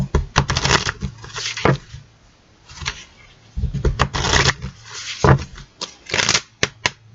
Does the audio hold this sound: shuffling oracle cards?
yes